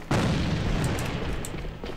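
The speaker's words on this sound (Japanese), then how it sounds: "手榴弾を使うぞ" A grenade explosion in the online shooter AVA: a sudden loud boom followed by a sustained low rumble that slowly fades, with a few faint sharp clicks over it.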